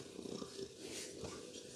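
A friendly, half-domesticated fluffy cat purrs softly and steadily at close range, a low continuous rumble that ends in a brief louder bump.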